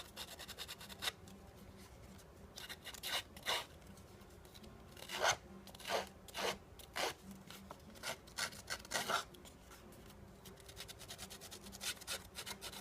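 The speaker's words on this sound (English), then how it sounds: "So you just gently rub this along the edge." A small handheld Cricut edging tool gently rubs along the edge of a card or paper, giving a series of soft, quiet rasping strokes in uneven bursts, close up with no talking.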